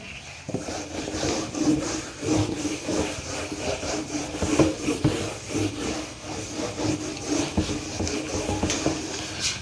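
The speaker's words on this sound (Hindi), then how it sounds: "रब कर देता हूँ इसको" Rapid back-and-forth rubbing as writing is wiped off a classroom board, a steady scratchy swishing heard close up with no one speaking.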